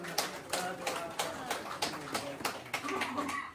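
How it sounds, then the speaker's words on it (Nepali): A group at a family get-together in the UK claps in a steady, even rhythm, with sharp, fairly close claps repeating over a murmur of voices. "प्लिज ताली बजाइदिनु होला"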